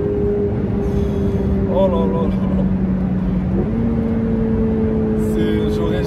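A Ferrari 488 Pista's twin-turbo engine drones steadily in the cabin, its pitch shifting as revs change, while someone talks over it.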